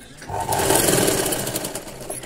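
Sewing machine running steadily while stitching thread piping around a square neckline, a continuous close whirring hum lasting the whole stretch with no talk over it.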